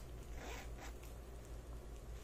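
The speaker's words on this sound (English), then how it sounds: "It's got the zipper here in the back." A zipper runs along the back of a black lace romper, giving a brief, close, quiet rasp of zipping early on over soft background hiss, with no talking.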